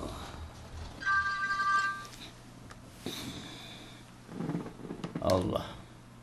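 A mobile phone rings briefly in a room during a religious talk, a short electronic tone of a second or so, followed by rustling, shuffling and murmured voices.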